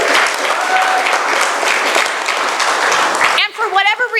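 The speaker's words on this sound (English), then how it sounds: "Let's give them an applause" Audience applause at a Camp Constitution youth challenge event, a steady loud wash of clapping that fills most of the stretch and then breaks up near the end, with a voice briefly heard as it fades.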